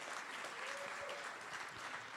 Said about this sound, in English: Let's give all four people a huge round of applause.